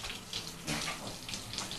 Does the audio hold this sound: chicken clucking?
no